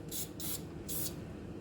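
Spray paint dusting a model HMS Queen Elizabeth ship: three short hissing bursts from a spray can, the first two close together and the third after a pause, soft and near against a quiet background.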